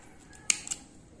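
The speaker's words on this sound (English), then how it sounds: "So we cut off the yarn." A single quick snip of scissors cutting crochet yarn, a short close crisp click with a softer second snip just after, in an otherwise quiet room.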